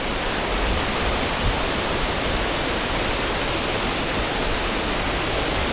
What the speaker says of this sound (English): I can't hear anything except for the wind